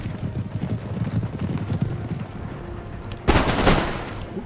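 Musket volleys in a battle from Empire: Total War, with a dense burst of crackling gunfire erupting partway through over a steady rumble of battlefield noise.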